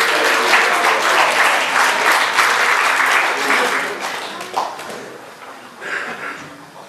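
Audience applause at a team pie-cutting event for a sports club in southern Corfu, steady broadband clapping for about four seconds that thins into scattered claps and a few voices toward the end.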